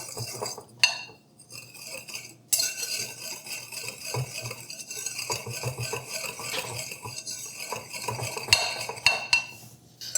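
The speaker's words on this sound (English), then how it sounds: "we're just going to go ahead and whisk that together to combine." A whisk clinks and scrapes steadily against a bowl while mixing dry salt, sugar and baking powder, with rhythmic metallic rattling throughout and no talking.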